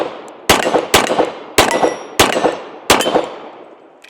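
Springfield TRP 1911 pistol firing .45 rounds from a 10-round magazine, five sharp loud shots at an uneven pace about half a second apart, each followed by a ringing decay.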